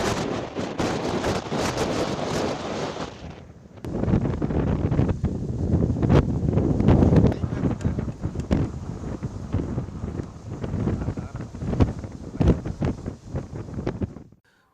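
Strong Cyclone Fengal winds on the coast near Mamallapuram, loud gusting roar battering the microphone continuously with bursts and rustling throughout.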